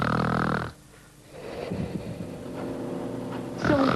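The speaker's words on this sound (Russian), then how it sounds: "Пациент громко храпит?" Loud snoring from a patient lying in a hospital sleep laboratory, heavy rasping breaths rising and falling with a quieter pause in between, heard up close with no talk.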